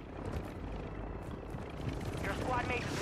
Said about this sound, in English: Oh, helicopter, helicopter.